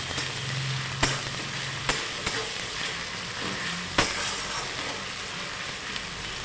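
Onions fry in oil with a little salt in a pan for a vegetarian eggplant curry. A steady, close sizzle runs throughout, broken by a few sharp utensil knocks and stirring clatters.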